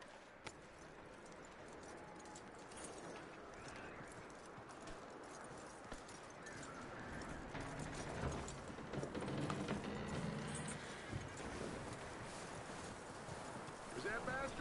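Horse hooves clip-clop in Red Dead Redemption 2, a soft irregular patter of steps over outdoor wind and ambient noise, growing slightly louder toward the end.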